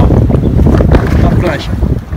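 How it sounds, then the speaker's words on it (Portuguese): Strong northeast wind and rough, pounding sea heard from aboard a boat, with a loud, continuous roar of wind buffeting close over churning water throughout. "Tá batendo muito o mar hoje. Vento nordeste"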